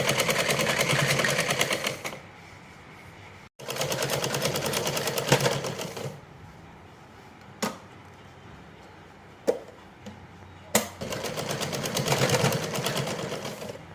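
An electric sewing machine stitches piping onto a blouse in bursts of fast, close mechanical whirring, running for a few seconds at a time and separated by quieter pauses with occasional sharp clicks.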